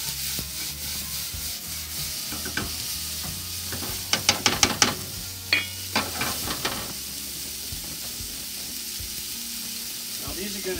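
Onions sautéing in a pan over medium to medium-high heat for tomato basil sauce, a steady close sizzle with scraping stirs and a quick run of sharp clattering taps in the middle.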